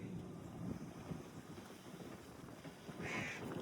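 A motorcycle engine is rigged to run a farm tube well pump over a roughly 50-foot well. It gives a steady, rough, continuous drone with wind buffeting the microphone, loud and unbroken throughout.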